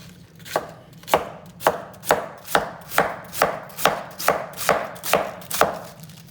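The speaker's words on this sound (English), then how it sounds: "What I usually do is cut it in half and cut it into 4 pieces." Knife strikes a cutting board in a steady rhythm while chopping vegetables for curtido, about a dozen crisp, even chops at close range, no voices.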